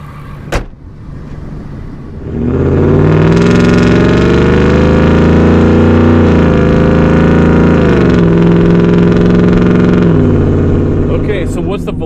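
A Hennessey VelociRaptor V8 pickup truck's engine starts up loud and close, then holds a deep, rumbling drone that rises and dips in pitch as it is driven, fading slightly at the end.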